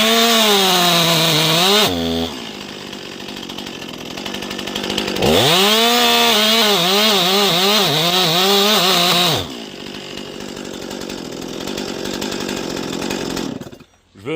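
A chainsaw with a chain lacking depth gauges revs and cuts into hardwood, its engine whining up and down in pitch between bursts of steady idling, loud and near.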